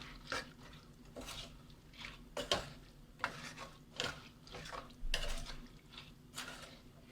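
Spoon stirring cooked black chickpeas into curry masala for Kerala-style kadala curry, a series of scraping and clinking strokes against the pan in irregular bursts, close and moderately loud, with no talking.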